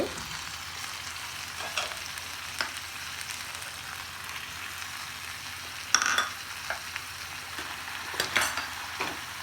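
Cauliflower and peas fry together in a pan for aloo gobhi matar, a soft continuous sizzle broken by intermittent scraping stirs of a spoon against the pan.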